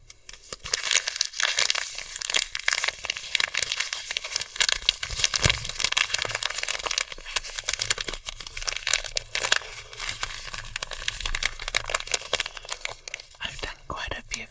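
Close crinkling and crumpling of packaging for ASMR, a dense, irregular crackle of rustles and crunches that runs throughout, with soft whispered speech mixed in.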